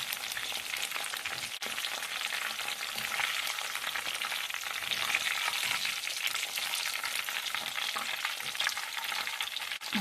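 Chicken pieces deep-frying in hot oil for an Indonesian honey garlic sauce fried chicken dish give a steady, dense sizzle and crackle throughout, with a brief clatter near the start and no talking.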